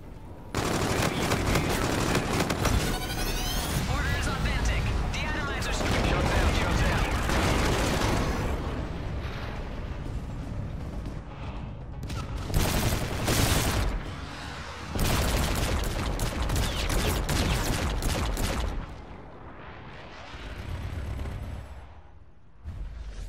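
Video game air gun run: dense, loud bursts of rapid gunfire and booming impacts roll on for most of the stretch, with brief lulls between volleys.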